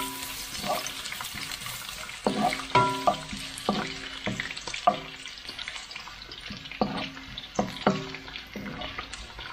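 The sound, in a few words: ginger sautéing in hot oil in a pan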